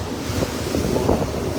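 Ocean waves surge and wash in a continuous broadband roar, heavy with wind buffeting the microphone, as if recorded from a small boat at sea.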